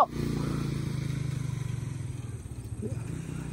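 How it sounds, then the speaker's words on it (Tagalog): A loud motorcycle engine runs steadily close by at a house construction site, a low throbbing idle that holds for the whole stretch with a brief rough patch near the end. "lakas ng motor ah"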